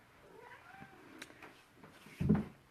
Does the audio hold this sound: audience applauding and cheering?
no